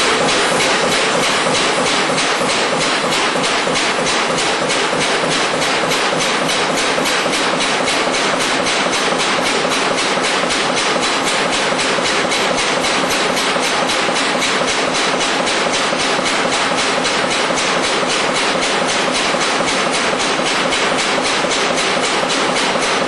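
A Dimuken DC-8614-H4 hologram applicator machine running, a loud, dense and steady rapid mechanical clatter with fast repetitive hammering beats that hold unchanged throughout, with no voices.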